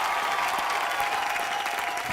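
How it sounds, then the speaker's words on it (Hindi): Studio audience applause on an Indian television entertainment show, a thick, even roar of clapping hands that stays loud and steady from start to finish. "जोरदार तालियां।"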